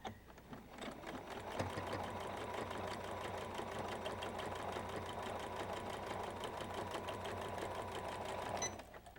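A sewing machine chain piecing fabric for a tote bag runs in one steady, rapid mechanical hum of even stitching for about eight seconds, close and moderately quiet, stopping near the end.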